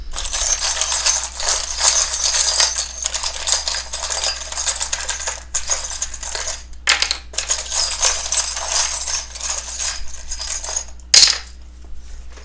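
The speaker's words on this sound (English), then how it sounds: "I don't actually look in here as I shuffle around and get you guys some charms" Small charms being shuffled and rummaged by hand, then dropped, giving a continuous close metallic jingle and clatter with brief pauses and a sharper drop near the end, no voices.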